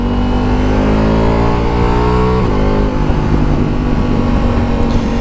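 A Ducati Multistrada motorcycle cruises in fourth gear: a loud, steady engine drone heard up close from the rider's position, with a brief shift in pitch midway.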